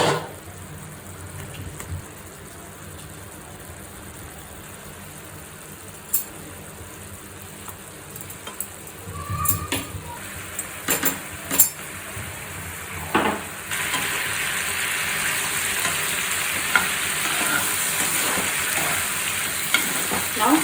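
Red pasta sauce with added water cooks in a lidded pan over a low flame, a steady soft sizzle and bubbling with occasional clinks and stirring scrapes, growing louder in the second half.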